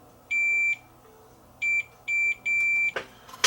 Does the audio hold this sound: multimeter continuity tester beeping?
yes